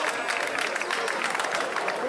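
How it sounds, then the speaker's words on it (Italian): A crowd at an outdoor race award ceremony applauds steadily, with a dense wash of clapping and some murmur carrying on evenly throughout. "un applauso!"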